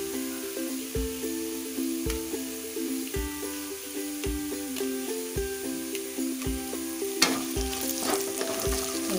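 Three or four dried red chillies fry in a hot pan for Schezwan chicken, a steady sizzle broken by regular scraping stirs of a utensil against the pan.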